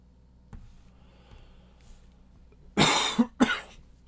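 Two loud, close coughs in quick succession break a quiet stretch while a person paints during a GigaCon Grand Melee 2019 panic-painting session; faint room noise surrounds them.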